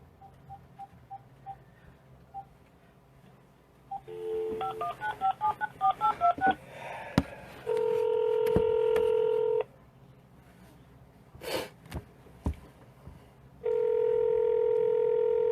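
A telephone keypad dials a string of quick DTMF tones, followed by steady ringback tones with a gap between them, heard clearly at a moderate level.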